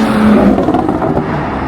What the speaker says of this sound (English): I have an MST intake so I can hear a little bit more of the turbo